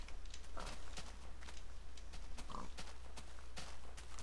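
Minecraft pigs grunting in short, soft oinks, a couple of brief calls standing out over a steady game hum and scattered clicking footstep-like ticks.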